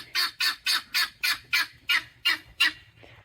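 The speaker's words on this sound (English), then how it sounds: "The guineas have something to say this morning, apparently." Guinea fowl call loudly nearby in a steady series of about nine harsh, rhythmic squawks at an even pace, ending with a fainter note.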